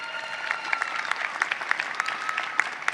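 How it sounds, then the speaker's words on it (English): Commencement honors convocation audience applauding award finalists, with dense, even clapping from many hands in a large hall, moderately loud and continuous throughout, with no speech. "Please join me in applauding the accomplishments of these finalists for the Outstanding Graduating Senior Award"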